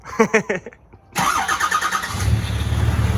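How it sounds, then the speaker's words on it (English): A diesel truck fitted with a Power Stroke starter cranks briefly in a few quick bursts, then a short pause follows before the engine catches and settles into a loud, close, rumbling idle. "You guys can hear what it sounds like with the Power Stroke starter on it and everything."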